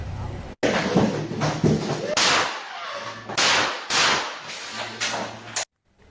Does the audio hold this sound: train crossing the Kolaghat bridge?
no